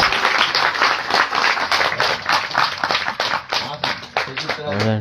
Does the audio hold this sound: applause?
yes